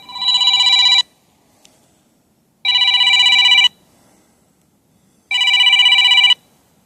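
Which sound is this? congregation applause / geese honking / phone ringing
phone ringing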